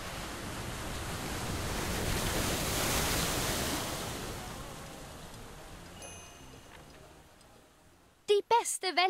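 A tsunami wave in Tropico 4 surges as a broad, loud rush of water that swells, peaks early and slowly fades. A short burst of voice comes in at the very end.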